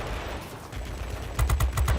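Aircraft 20mm cannons firing in World of Warplanes, a soft rumbling stretch followed by a loud rapid burst of about six to eight sharp shots in quick succession, alone without talk.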